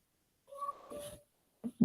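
A house cat meows indoors, faint and close, with a drawn-out cry followed by two short chirps in an otherwise quiet room.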